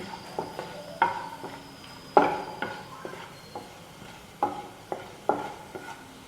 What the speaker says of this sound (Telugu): కొన్ని తాలింపు గింజలు ఇవి కొంచెం వేగిన దాకా ఆగి